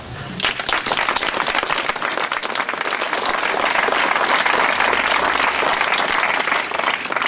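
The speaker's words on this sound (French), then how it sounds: "Je pense qu'on peut finir les applaudir." Loud, dense applause from a crowd at an outdoor Armistice Day commemoration in France, rising quickly after a brief moment and sustaining as a thick, continuous clatter of many hands.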